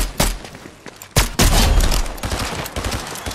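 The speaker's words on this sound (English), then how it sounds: "There's somebody and shooting at us." Gunfire in the video game Fortnite, with loud bursts of rapid shots aimed at the player, a sharp volley, a short lull, then heavier sustained firing that tapers into scattered shots.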